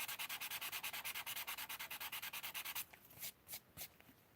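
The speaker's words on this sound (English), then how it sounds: "you can just sand the top layer of the paper" An emery board nail file sands the top layer of paper at close range for a vintage stamped background: a quick, even run of rasping strokes, then a few slower, separate scrapes.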